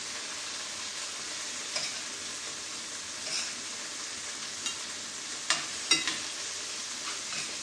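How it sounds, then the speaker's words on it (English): Shrimp sizzle steadily in a hot pan as they are tossed, a constant frying hiss with occasional soft clicks and scrapes of the utensil against the pan. "So I'm just kind of tossing this shrimp around."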